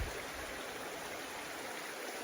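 A creek flows through winter woods in a steady, close rush of water that fills the air with constant hiss and gurgle, with no voices.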